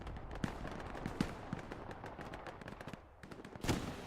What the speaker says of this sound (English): That was artillery. Artillery's landing true so far.